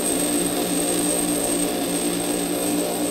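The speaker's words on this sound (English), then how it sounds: "As I'm grinding this high-speed steel, notice I have one finger supporting that tool bit" A bench grinder wheel grinds a high-speed steel lathe tool bit, giving a steady, loud abrasive whine with a high sustained tone that runs unbroken from start to finish, and no voices.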